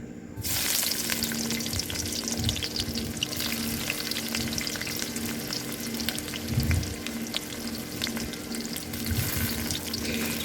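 Chopped onions fry in a pan with a constant, close sizzle, broken by occasional louder scraping and stirring swells as the pieces are moved around.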